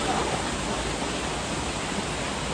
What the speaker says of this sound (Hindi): ये है हमारा प्यारा वाटरफॉल।